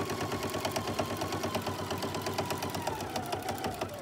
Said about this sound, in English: And I'll sew all the way to the edge of the quilt binding.